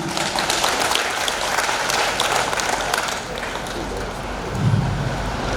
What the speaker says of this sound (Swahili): Makofi mengi zaidi.